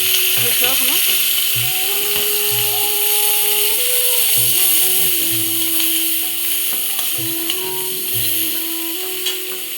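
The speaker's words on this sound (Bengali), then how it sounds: "আমি মাছের তেল ভাত দিয়ে ভেজে নিচ্ছি" Fish frying in hot oil for a fish curry with cauliflower, a loud steady sizzle with occasional spatula scrapes and clinks, while someone talks throughout.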